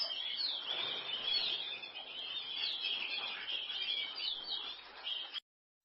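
Bright, continuous canary song of rapid trills and warbling whistles, close and clear with no other sounds, ending abruptly in silence.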